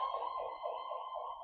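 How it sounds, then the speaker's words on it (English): Emergency vehicle siren sounding outdoors, a wavering wail rising and falling several times over a second and a half, thin and moderately distant with no voices over it. "Sirens"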